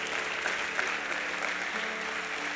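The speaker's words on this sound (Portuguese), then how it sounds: "Bata palmas ao Senhor" A church congregation applauds in praise during a worship service, the dense, steady clapping of many hands continuing evenly throughout at moderate volume.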